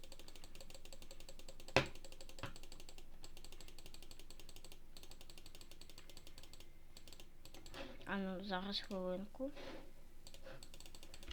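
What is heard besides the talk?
rapid clicking to earn points in a leg-training game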